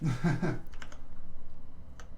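A few sparse, crisp keystrokes on a RAMA U80 keyboard fitted with T1 tactile switches, coming after a brief voice-like sound at the start.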